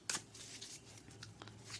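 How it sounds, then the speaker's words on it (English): Tarot cards being shuffled by hand, soft papery riffles and slides in a few quiet bursts, close and faint with no talking. "Let's do a shuffle."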